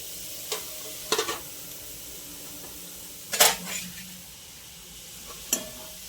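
Scattered metallic scrapes and clinks of a utensil stirring chopped jaggery in a wok, a few sharp strokes spread out over a quiet background.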